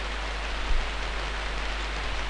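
Pouring rain falls outside a bar in the video game Dreamweb, a steady, even hiss with no voices over it.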